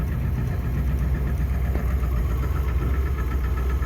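A 7.3 Powerstroke diesel engine idling after a cold start at 5 degrees Fahrenheit, with a loud, steady low rumble and a rhythmic clattering knock, close and continuous.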